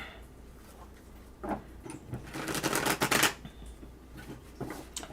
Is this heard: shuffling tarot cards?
yes